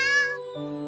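A ginger kitten out camping with its mother cat gives one clear, close meow that drops in pitch partway through, heard alone with no voices.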